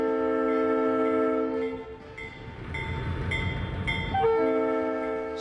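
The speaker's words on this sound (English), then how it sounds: "For some reason, I liked watching real trains." A real train rolling down the track, its horn sounding sustained chords before the rumble and clatter of wagons take over, then the horn returns, loud and close, with no talk.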